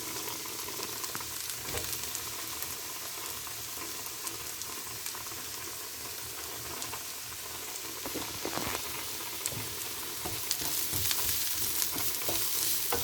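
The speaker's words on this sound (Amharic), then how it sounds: "እዚህ ጋር ሽንኩርት እየበሰለች ነው። ነጭ ሽንኩርት ጨምራለሁ።" Onions and garlic frying in a pan make a continuous close sizzle, with occasional scraping and stirring clicks on top and no voices.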